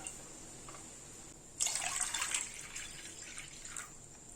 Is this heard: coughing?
no